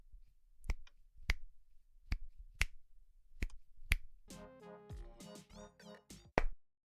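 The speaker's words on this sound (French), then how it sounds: "ça veut tout simplement dire claquement de doigts" Finger snaps recorded on a phone with a microphone, six sharp, close, evenly spaced clicks, followed by a busy stretch of layered meowing and clicking sounds.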